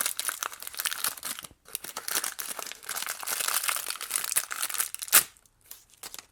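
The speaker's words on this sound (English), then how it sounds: "But it comes packaged in this sort of wax paper." Wax paper packaging around a Tune bicycle seat post clamp being unwrapped: close, continuous crinkling and crumpling with rustles and tearing bursts, one sharp crackle near the end, then a brief quiet.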